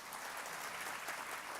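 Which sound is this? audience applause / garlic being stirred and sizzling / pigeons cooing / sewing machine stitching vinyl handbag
audience applause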